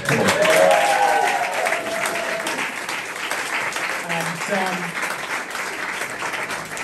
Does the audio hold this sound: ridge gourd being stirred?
no